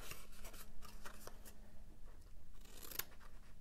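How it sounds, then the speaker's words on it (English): Scissors snip off the small end flaps of a cardboard box lid, a series of soft, close crunching cuts at an uneven pace against a quiet room. "So right here on those, these end ones and little flaps, just cut those off."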